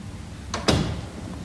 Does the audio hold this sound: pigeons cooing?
no